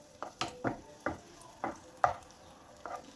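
Raisins fry in hot ghee in a pan, giving soft sizzling with a series of regular stirring scrapes about every half second, close and fairly quiet.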